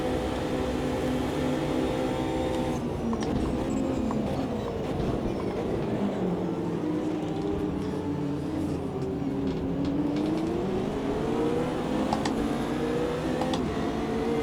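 Race car engine droning steadily from the Automobilista 2 racing game, its pitch sliding down and then rising again through gear changes, moderately loud and alone with no talk.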